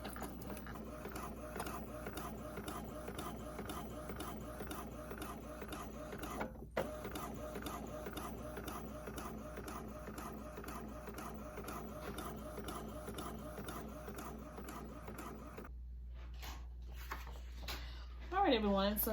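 A sublimation printer runs with a rapid, rhythmic mechanical whir and chatter, fairly quiet and steady, stopping near the end with a few clicks.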